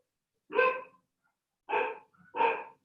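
A small female dog barks three times, sharp and fairly close, with short pauses between the barks in an otherwise quiet room.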